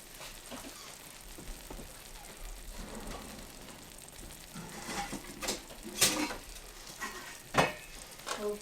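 Eggs frying in a shakshuka pan, giving a quiet, steady sizzle with soft bubbling pops and occasional louder crackles and spatters, with no speech.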